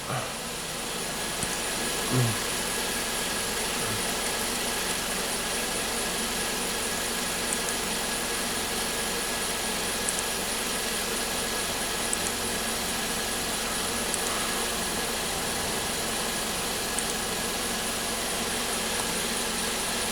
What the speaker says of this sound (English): So at idle, it does this kind of weird ramp thing